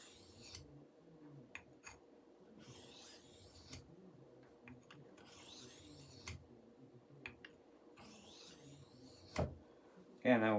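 A Buck knife is drawn along a wet dry sharpening stone in slow, repeated scraping strokes, faint and close, with soft rasping passes separated by brief pauses and a sharper knock near the end.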